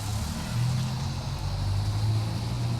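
A car drives away down a deserted road at midnight in a Hindi horror audio story, a steady low engine rumble that holds at moderate loudness throughout, with no voices.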